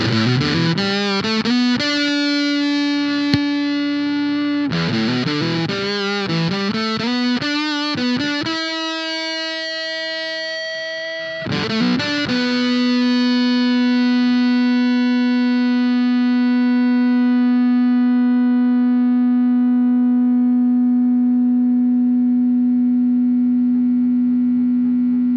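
Electric guitar played through a compressor pedal: sustained distorted notes and chords ring on with long sustain, the final chord swelling and blooming as it holds for over ten seconds, loud and close with no talking.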